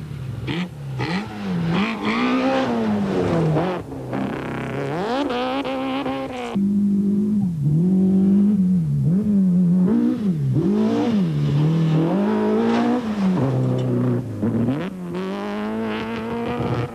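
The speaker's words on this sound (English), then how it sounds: "The Hyundai starts the stage behind the Nissan of Nuno de Cunha" Rally cars, a Hyundai and a Nissan, rev hard and rise in pitch repeatedly as they accelerate through gear changes on a 1995 rally stage, loud and close, with shifting whines between bursts.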